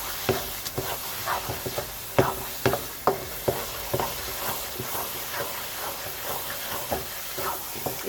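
Carrot halwa (gajar ka halwa) is stirred and roasted in a pan as it pulls away from the sides, giving repeated scraping and thudding spoon strokes in an uneven rhythm over a soft sizzling hiss, close and moderately loud.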